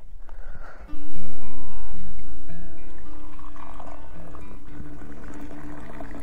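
Water heated over a forest campsite fire rushes and bubbles, surging loudly after a second of low background rumble, then gradually easing off.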